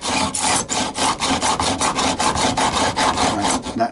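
Steel file rasping across metal fret ends during a guitar re-fret, a close, gritty scraping in quick regular back-and-forth strokes.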